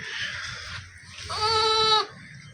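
A goat gives a loud, close, wavering bleat lasting under a second, preceded by softer bleating and rustling on a farm.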